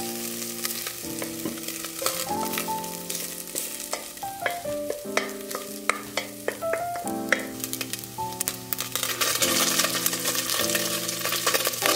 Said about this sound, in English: I've actually added a bit of grapeseed oil into the pan just to fry up the vegetables nicely